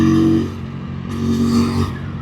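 A QJMotor SRV250 motorcycle engine drones steadily while riding, a continuous low hum with a slight rise in revs midway and wind noise over it.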